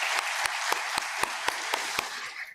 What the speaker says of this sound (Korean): 우리 주님의 이름 박수로 함께 영광 올려드리겠습니다